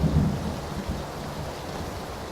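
Thunderstorm in the battle royale game PUBG: a steady wash of rain with a low rumble of thunder at the start, dense and continuous without voices.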